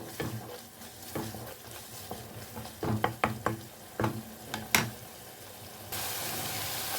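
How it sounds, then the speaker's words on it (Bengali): Dry ground spices including cumin powder are sautéed and stirred in a pan for palak paneer, with a quiet frying hiss and a series of scraping, knocking spoon strokes against the pan, ending in a louder, steady sizzle. "এখন আমি এই শুকনো মশলাগুলোকে খুব ভালো করে কিন্তু কষিয়ে নেব যতক্ষণ না মশলার কাঁচা গন্ধ চলে যাচ্ছে"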